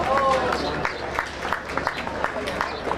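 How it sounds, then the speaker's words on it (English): Applause from the audience at a Dodge County Fair swine show, a steady wash of many hands clapping over crowd murmur, moderately loud and a little distant. "Let's give them a big round of applause."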